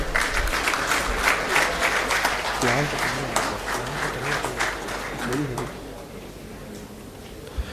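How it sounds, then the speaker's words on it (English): Audience applause at an eBAJA inauguration ceremony at a college, a broad burst of clapping that gradually thins and fades, with voices talking underneath as it dies down. "Please give a big round of applause, guys"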